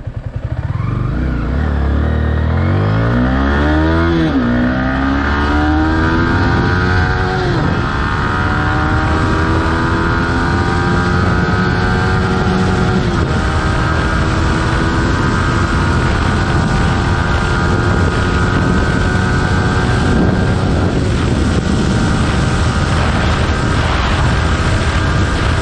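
A Yamaha R15 motorcycle with a VVA engine revs up loudly and pulls through rising gears, the engine note climbing steadily and then holding a strong, sustained drone close by with no talk.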